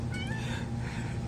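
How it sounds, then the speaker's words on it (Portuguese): A cat meows a couple of times indoors near a twin-tub washing machine, the calls short and close over a steady low hum of background noise. "Isso aí que o gato falou."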